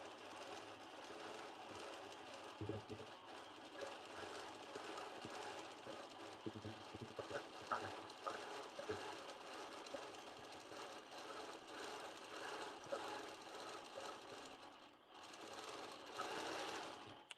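Sewing machine stitching freehand ribbon-candy free-motion quilting, a fast continuous mechanical whir with a brief pause and restart near the end, quiet and close.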